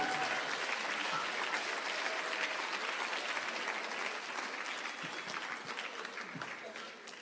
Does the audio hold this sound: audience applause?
yes